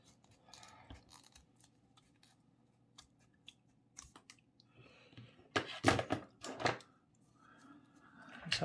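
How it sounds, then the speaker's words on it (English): Scissors cutting paper for a snowman snowflake Christmas craft: scattered quiet snips, then a cluster of louder, crisp cuts near the end, close by in a quiet room. "trace out the rest of his body with the scissors"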